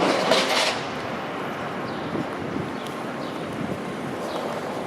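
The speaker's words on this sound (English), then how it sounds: "We're right on top of the Line 1 subway here." A Toronto Line 1 subway train rumbles underneath a downtown street. The steady low roar carries faint rail clatter, heard from above ground and without talk.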